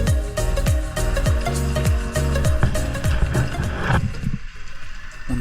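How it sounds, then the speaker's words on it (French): Boat engine running at full speed, heard underwater off the Cotentin coast: a loud, continuous mechanical drone with a regular pulsing rhythm that stays strong throughout, then thins into a gurgling, bubbly wash near the end. "c'est le bruit d'un moteur de bateau qui est à pleine vitesse"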